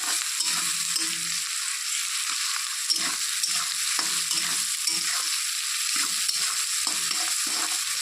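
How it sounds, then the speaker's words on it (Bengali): Chopped onions with a pinch of salt fry in oil in a pan, a steady close sizzle broken by repeated low scraping stirs, with no talking. "একটু লালচে করে ভাজবো পেঁয়াজটা।"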